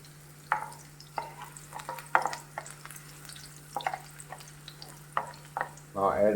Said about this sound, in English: Saute garlic for a while.